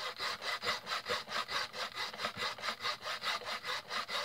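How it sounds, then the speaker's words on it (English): Habasit F1 belting material being hand sanded with long, easy, light-pressure strokes, giving a steady run of rhythmic rasping passes at a quick regular pace, close and clear with no talking. "long, easy strokes, not a lot of pressure, just a little bit to be able to sand."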